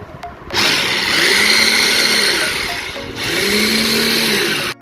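An electric grinder whirs loudly as it grinds chopped chicken with garlic and ginger paste for meatballs, running in two steady bursts separated by a brief dip in power.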